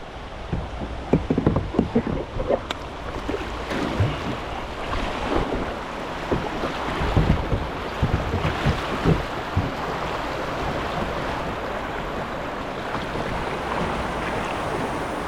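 Rushing water of class 2 rapids on the Caddo River roars steadily, with splashes, wind buffeting the microphone and occasional knocks of a kayak moving through rough water.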